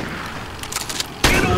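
Rapid bursts of gunfire from the VR dinosaur shooter Bleeding Edge VR, crackling in a busy volley, then one louder blast near the end.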